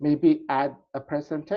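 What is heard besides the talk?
No everyday noises stand out.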